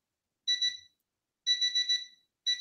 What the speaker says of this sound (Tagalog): bakit naka-alarm ang hotel